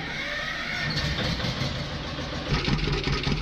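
An old Massey 7030 diesel tractor in Farming Simulator 19 cranks and settles into a steady, close engine rumble that stays fairly even throughout, with no talk.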